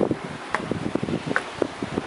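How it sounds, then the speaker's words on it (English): Wind gusts across a hilltop viewpoint on the coast at Samana, Dominican Republic, a steady, moderate rush with buffeting microphone noise and leaf rustle. "is it ever nice and breezy up here too?"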